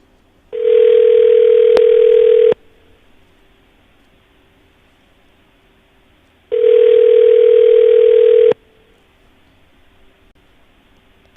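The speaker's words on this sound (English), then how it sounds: "hopefully you'll answer your phone when you hear it ring" A telephone on a radio call-in show rings back through the line in two long, loud ringback tones about two seconds each, separated by a few seconds of quiet line hiss.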